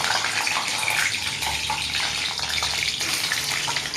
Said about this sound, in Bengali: ডিমগুলা এক একটা করে ডিম ভেজে নেবো।